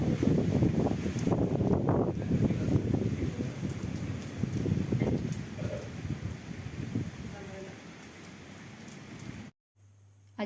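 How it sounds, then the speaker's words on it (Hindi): Steady rain mixed with small hailstones falling during a storm, a dense close patter that eases slightly before cutting off abruptly near the end. "आज 2-3 बजानु धुका पवन धरला आउ वर्षा होउची करा वर्षा होउची"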